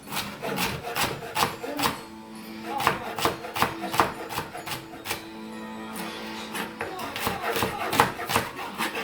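A knife chops leftover stuffing on a slightly warped cutting board with steady, close, rhythmic wooden knocks and scraping strokes, and a voice talks faintly in the background.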